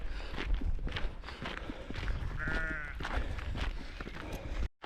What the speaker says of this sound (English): Oh, look at these sheep running around.